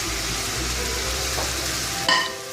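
Five chopped tomatoes sizzle in a hot pan for chicken majboos, a steady frying hiss with a brief stir or clatter near the end.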